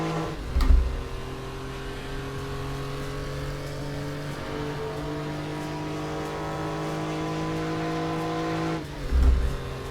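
Porsche 911 (964) engine in the RaceRoom racing game, a steady droning flat-six note holding at constant revs, with brief thumps at the start and end.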